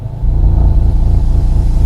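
Audi TT with S-tronic gearbox launching hard with traction control and ESC switched off, a loud, close, deep engine rumble rising sharply and holding steady as the car accelerates.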